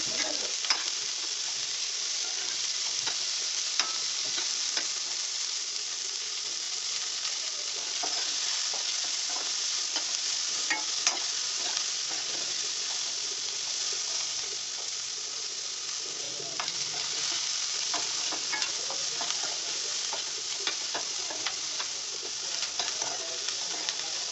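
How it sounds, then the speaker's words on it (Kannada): Onions fry in a pan for a spiced curd chicken roast, a steady close sizzle with occasional scraping and clicking as a spoon stirs them, continuous and without talk. "ಈರುಳ್ಳಿ ಸ್ವಲ್ಪ ಕೆಂಬಣ್ಣ ಬರೋವರೆಗೂ ಚೆನ್ನಾಗಿ ಫ್ರೈ ಮಾಡ್ಕೋಬೇಕು"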